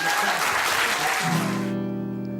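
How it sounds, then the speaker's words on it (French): A crowd claps for a singer's family, dense applause that cuts off after about a second and a half and gives way to a sustained musical tone. "On va les applaudir, toute la famille, et puis Dimitri."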